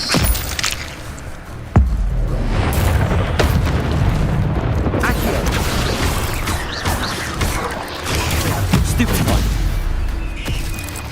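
Spell-casting explosions from the Hogwarts Legacy video game form a dense, loud, continuous barrage of booms and crackling bursts, with a sharp blast near the start and steady rumbling throughout.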